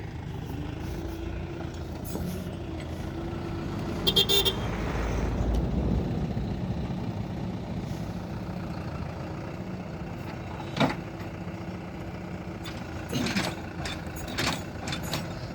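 A Deutz 4080 farm tractor engine runs steadily at a village farm, a low continuous diesel drone at moderate distance, with a few brief mechanical clanks and knocks partway through.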